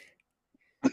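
One short, fairly close cough breaks near-silence during a live Super Bowl play-by-play stream, preceded only by faint murmurs.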